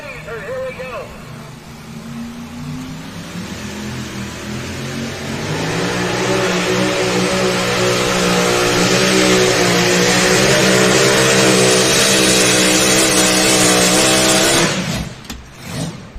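A mini class puller at an NTPA truck and tractor pull in Napoleon, Ohio revs up and climbs into a long, loud, sustained high engine wail that holds for several seconds, then cuts off abruptly. An announcer talks over the start.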